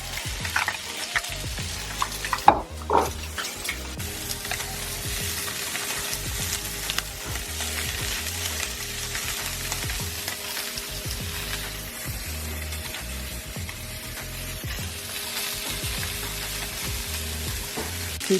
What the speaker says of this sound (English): we're going to add the kale and the onions, stir it around it there so this can start to saute